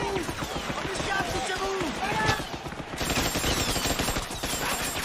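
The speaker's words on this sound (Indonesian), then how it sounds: "tiba-tiba mereka disambut tembakan dari arah dalam hutan" Gunfire erupts from inside a jungle near a beach in a sharp, crackling volley of rapid shots layered with whistling, whizzing sounds, under a narrator's voice throughout.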